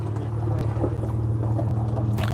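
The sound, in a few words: Jaguar Mark 9 classic car engine firing up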